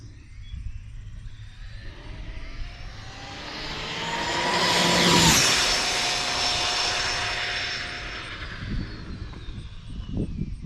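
An Arrma Mojave 8S RC car makes a speed-run pass. A high electric whine builds from a distance, peaks loudly as the car passes near the middle, then falls away in pitch and fades. No voices are heard.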